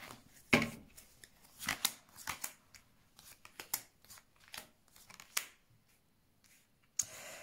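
Tarot cards shuffled for a reading, close and quiet, in irregular riffling bursts and soft flicks with pauses between them and a final sharper burst, without any talk.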